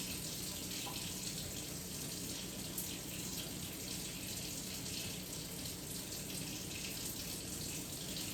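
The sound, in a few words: water running from a tap while washing hands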